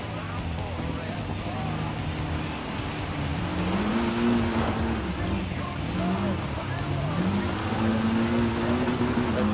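Race cars in Gran Turismo Sport during an online off-road lobby race, engines droning steadily with pitch rising and falling through gear changes, loud and continuous with a voice talking over them.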